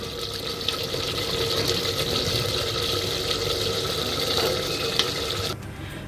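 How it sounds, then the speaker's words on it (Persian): Water poured from a tap into a pot of beans being cooked for a bean stew, a steady rushing stream lasting several seconds at close range before it abruptly cuts off. "حال آب اضافه میکنیم و 1 انگشت آب از سر لوبیا بالا باشه"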